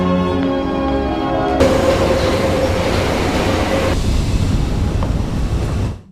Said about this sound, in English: Julia decides to leave and go home alone by train.